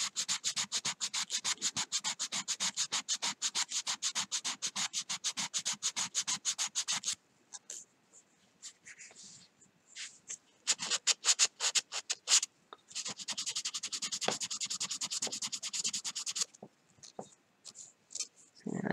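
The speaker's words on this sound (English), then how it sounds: "I'm just about done with this grit, and then I'll go to the next grit." Sandpaper rubs rhythmically over a hand-carved wooden fishing lure in quick, steady strokes, pausing in the middle for a stretch of scattered scrapes before the fast sanding resumes, close and clear.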